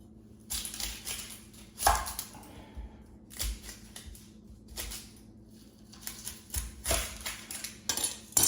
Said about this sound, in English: the first thing we're going to do is we're going to cut our onions